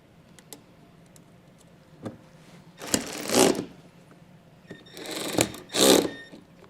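A power drill drives a self-tapping screw to mount a bracket, heard as short bursts of close motor whirring, two longer runs of a few seconds each, with small ticks between.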